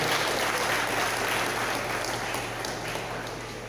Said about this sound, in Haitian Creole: Nous allons applaudir le témoignage évangélique Dieu grand.